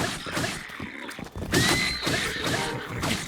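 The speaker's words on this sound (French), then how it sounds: "il y a un cheval" A horse whinnies loudly in the video game The Legend of Zelda: Breath of the Wild, set against dense, busy game sound with some thuds.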